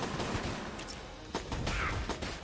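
Shotgun blasts from a shotgun bulletkin enemy in Enter the Gungeon, several sharp reports spaced irregularly over ongoing game noise.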